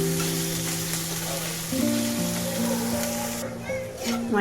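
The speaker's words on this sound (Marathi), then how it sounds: "वाटाणा छान परतून घेतलाय मी।" Peas sizzle steadily in a hot pan with cumin and mustard seeds, a soft frying hiss running under a woman's speech and light background music.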